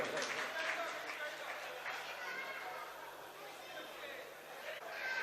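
An audience at a mushaira poetry gathering in Bareilly applauds to welcome a poet, a steady wash of many hands clapping mixed with crowd chatter, heard from within the hall.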